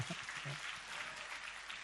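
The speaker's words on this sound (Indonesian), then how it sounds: "Yang percaya berikan tepuk tangan," A church congregation claps together in a steady, dense burst of applause, filling the room evenly for the whole stretch with a faint murmur of voices underneath.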